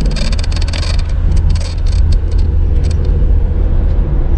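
A tall camper van cruising at about 50 km/h across the Akashi Kaikyo Bridge in strong crosswinds, with a steady loud road and wind roar throughout and brief hissy gusts early on.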